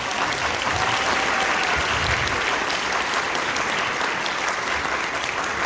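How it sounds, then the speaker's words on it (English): Dense, loud audience applause at a high school end-of-year concert band performance, continuous and even throughout the short stretch. "give him a round of applause"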